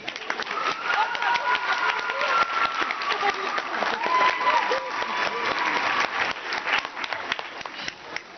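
An audience at a French comedy show applauds steadily and loudly while the comedian drinks water, dense clapping with some crowd noise throughout.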